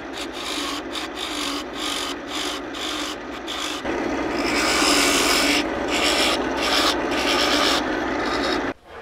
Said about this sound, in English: and just sand this all up